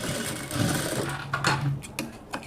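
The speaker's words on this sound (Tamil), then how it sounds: "ஃபுல்லாகவே இது மாதிரி தையல் போட்டுக்கலாம்." A sewing machine runs in a short burst while stitching chudidar cloth, its motor whirring steadily and close at hand, with no talking.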